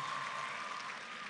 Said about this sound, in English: Please, a round of applause one more time for our guest lecturer